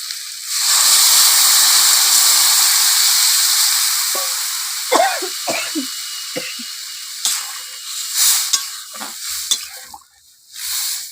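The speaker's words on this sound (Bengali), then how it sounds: "জল ঢেলে দেবো।" Water poured into a hot pan of katla fish curry with potato sets off a loud, steady sizzle for several seconds, fading into softer crackles, stirring and clinks toward the end.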